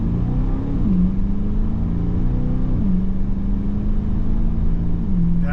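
A 2023 Aston Martin DBX pulls away and accelerates on a road, its engine a loud, steady drone that climbs in pitch through several gear shifts.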